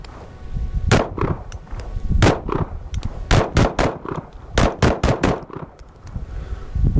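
Glock pistol shots fire in uneven bursts outdoors, about a dozen sharp loud cracks in quick succession with short pauses between groups, each trailing off quickly.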